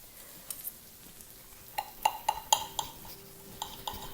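A knife cuts through a breaded pork chop on a plate, giving a run of faint, sharp clinks and scrapes of metal on china, scattered over a few seconds with no talk.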